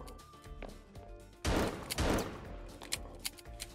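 Gunfire in a minigame-style video game, a sudden loud burst of rapid shots followed by scattered single pops against a quiet backdrop.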